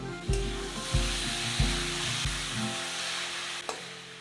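Boiled chicken pieces fry with ground spices in a pan, with a low sizzle and a series of heavy rhythmic spatula thumps and scrapes, close, without talk.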